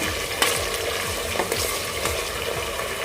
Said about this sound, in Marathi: आता आपण हे व्यवस्थित मिक्स करून घेऊया व्यवस्थित फ्राय करून घेऊया